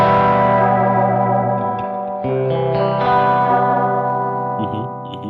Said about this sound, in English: When I use the space echo, I focus definitely on the echo sounds